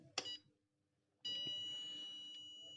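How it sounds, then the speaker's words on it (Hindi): Passive buzzer on a Luminous inverter PCB beeping for low battery: a short sharp beep, a pause, then a longer sustained faint electronic tone that fades slowly. "लगातार बजर इसमें बीप साउंड कर रहा है"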